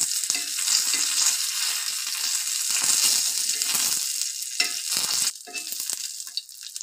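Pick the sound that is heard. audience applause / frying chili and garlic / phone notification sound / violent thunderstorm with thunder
frying chili and garlic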